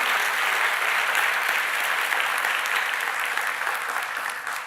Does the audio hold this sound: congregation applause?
yes